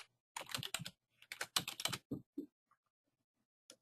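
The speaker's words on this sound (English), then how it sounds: "We're going to type in people who are interested in behavior analysis." Quick bursts of typing on a computer keyboard, with clusters of close, crisp key clicks separated by short pauses and a few isolated taps near the end.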